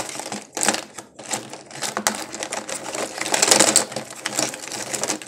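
Watercolor paint tubes or pans being shuffled by hand, a busy run of close clattering, rattling knocks in irregular bursts, loud and without talk.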